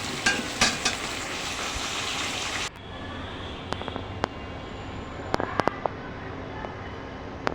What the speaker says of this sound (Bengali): তো এখন আমি ভাগার দিয়ে দেব একটা মরিচ, রসুন পেঁয়াজ দিয়ে খুব সুন্দর করে ভাগার দিয়ে নেব।